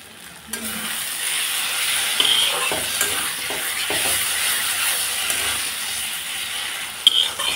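Potatoes and spice masala sauté in a pan, giving a steady close sizzle and hiss broken by scraping stirs, with no talk.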